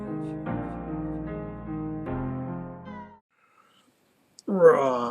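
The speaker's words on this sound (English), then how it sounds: "I've got a big-ass cat" A big cat meows loudly and close, a long drawn-out cry followed by another after a short silence, with a final rising meow near the end.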